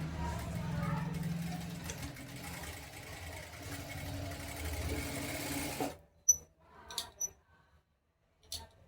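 A sewing machine stitches a straight seam on straight-cut kameez fabric with a 0.5 stitch, running in a steady, continuous whir for several seconds before stopping. Scattered handling clicks follow.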